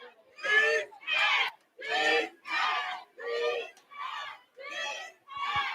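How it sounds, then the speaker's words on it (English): Crowd rhythmically chanting a name for fighter Deandra Anderson at an arena fight event, eight evenly spaced shouted bursts in a steady beat, voices blended and fairly close. "you're hearing the D's hands chant for Deandra Anderson popping off right now"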